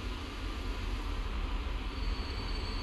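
Steady low rumble of a long freight train rolling along rails in the video game Transport Fever 2, a continuous mechanical drone with faint high whine, no talk over it.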